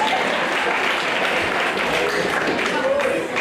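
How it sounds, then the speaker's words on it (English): A live comedy club audience breaks into loud, dense applause and clapping that holds steady for a few seconds, with some crowd voices mixed in. "Clap for that."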